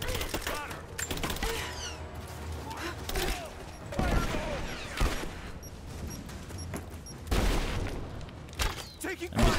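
Gunfire in Rise of the Tomb Raider cracks out in scattered bursts and single shots across a busy combat mix, with voices talking over it.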